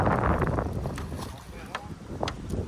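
Strong gusting wind buffets the microphone outdoors beside a pond being drained, a steady low rumble with bursts throughout, while people talk over it.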